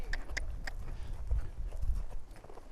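An Appaloosa horse's hooves clip-clop at a slow walk, a few light hollow knocks against a soft background, moderately close and fairly quiet.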